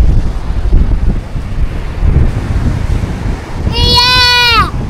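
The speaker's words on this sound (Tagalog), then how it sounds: "Parang lumakas lalo yung hangin." Loud seaside gusts buffet the microphone in a continuous low roar, with a high whistling squeal rising briefly near the end.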